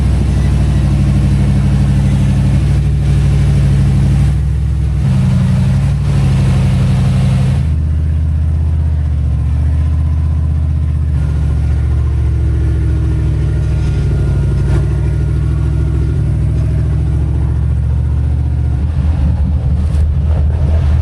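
An off-road truck towing a gooseneck trailer grinds slowly up a steep rocky hill, its engine droning loud and close with shifting load and rattles throughout.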